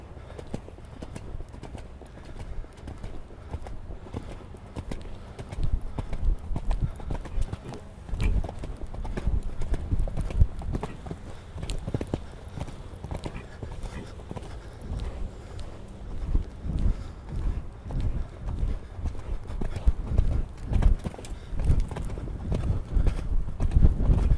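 Horse hooves clip-clop steadily in an arena during a riding lesson, a continuous rhythmic stream of soft thuds close by, with no talking over them.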